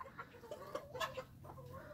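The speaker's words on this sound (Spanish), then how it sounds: "este pollo y esta polla son hijos de la pollita" Young Kelso gamefowl chickens cluck softly nearby in a series of short, irregular calls, quiet and without any speech.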